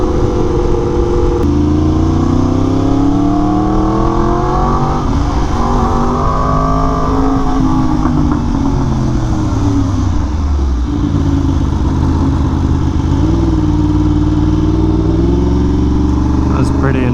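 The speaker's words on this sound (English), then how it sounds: "now I feel like my ear is right next to the exhaust" Yamaha R1M motorcycle ridden through traffic, its engine and exhaust heard close up from the rider's helmet: a loud, continuous growl whose pitch rises and falls with throttle changes, over steady wind roar.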